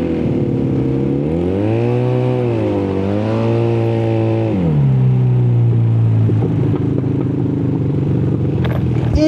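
Two-cylinder custom Honda Spacy 220cc automatic scooter engine revving loudly up and down in long pitch sweeps, then settling into a throaty, rough idle with light clatter, close and alone.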